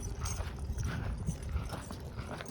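A group of horses being driven along clip-clops in a quick, uneven run of hoofbeats that continues throughout, moderately close, with no talk.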